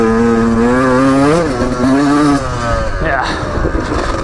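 A 2019 Beta 125 RR Race Edition two-stroke motorcycle revs hard while riding toward a turn and sand, its engine pitch rising and falling in loud, close sweeps.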